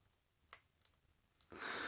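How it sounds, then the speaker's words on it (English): A few sharp plastic clicks at scattered intervals from the mute button of a Corsair K95 RGB Platinum keyboard knocking on its plastic, in a quiet setting, then a steady hiss of background noise rises near the end. "I have also noticed that the mute button also clicks on the plastic"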